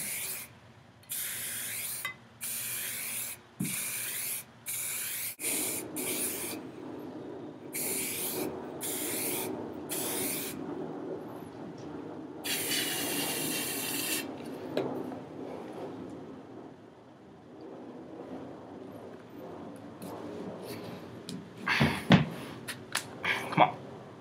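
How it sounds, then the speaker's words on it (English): Repeated short bursts of spray hissing onto a golf club shaft before a new grip is fitted, quick on-off blasts at first, then a longer spray, followed by rubbing and handling noises. "you're ready to spray down your club or put the gasoline on it"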